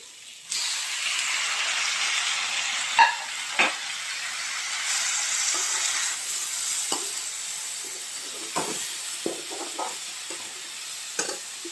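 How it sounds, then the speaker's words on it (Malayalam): Chopped corn tipped into a hot pan of a Kerala-style corn dish sets off a loud, steady sizzle and hiss, with scattered clicks and scrapes of stirring over the frying. "അതിലേക്ക് നമുക്ക് അരിഞ്ഞ് വെച്ചിരിക്കുന്ന കോൺ ചേർത്ത് കൊടുക്കാം."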